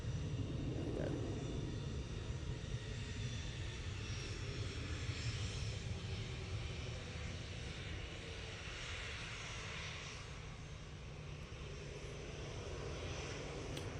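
EasyJet airliner jet engines roar at Manchester Airport, a loud, continuous broadband rumble that holds steady throughout.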